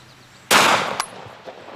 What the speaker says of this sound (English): I'm gonna shoot the remaining bone that's standing up